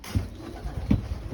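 Pigeons cooing in a loft, low soft throaty calls repeated twice close by with faint background hum.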